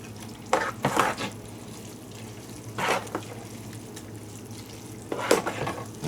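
Pasta stirred in a pot to coat it, three separate bursts of scraping and sloshing with quiet gaps between them and no voices.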